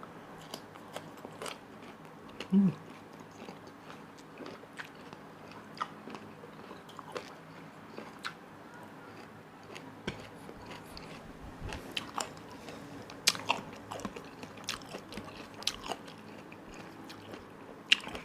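Someone bites and chews mango dipped in fermented fish sauce, giving soft repeated crunches and wet mouth sounds close by, with one louder bite early on.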